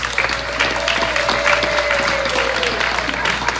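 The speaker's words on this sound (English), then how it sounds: "if you would please welcome with me with a round of applause" An audience at a 2018 Delaware Republican US Senate debate breaks into sustained applause to welcome a speaker, with dense, even clapping that stays loud throughout.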